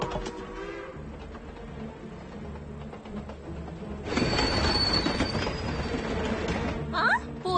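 A train rolls past in the mountains, a rumbling approach that swells into loud close clatter and wheel noise, with a high metallic squeal and a few bird calls near the end.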